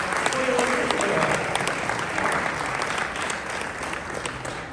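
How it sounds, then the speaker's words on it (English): A chamber of commerce audience applauds as an honoree comes up, dense clapping loud at first and tapering slightly, with a voice briefly audible underneath. "Give Al a round of applause"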